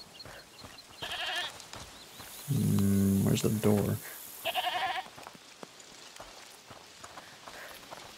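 Goats bleating in the video game A Plague Tale: Requiem, a few loud braying calls in short bursts, one long and strong in the middle, heard between players talking.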